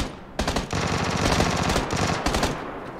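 Rapid automatic gunfire in the online shooter PUBG Lite, a loud burst of closely spaced shots lasting about two seconds after a brief quiet start, then tapering off.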